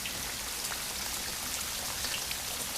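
Rain falls in a constant, even hiss of countless drops striking surfaces, steady and moderately quiet with no voices or other events over it.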